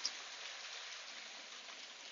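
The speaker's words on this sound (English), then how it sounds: "I have not seen hail like this in a long time." Continuous hiss of hail coming down outdoors and striking surfaces and roofs, an even, dense patter that holds steady at moderate distance with no voices.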